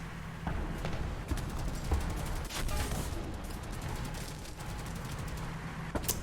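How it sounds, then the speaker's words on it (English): Scattered, fairly quiet bursts of machine gun fire crackle steadily over a constant background rumble in the tank combat game War Thunder, with no voices. "Yeah, killed with a machine gun."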